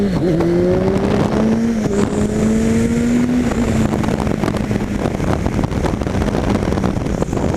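Steady engine drone from a Kawasaki ZX-10R sport motorcycle while riding, with the pitch sliding slightly as it shifts toward neutral, under heavy wind rush against the microphone.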